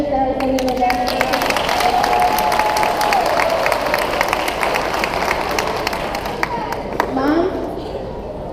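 A large crowd at a high school graduation applauds parents and teachers, loud sustained clapping mixed with cheering and whistles, with a voice talking over it briefly.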